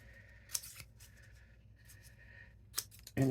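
Scissors snip a small piece off a sheet of paper, with two quiet, close crisp cuts and faint paper rustling between them.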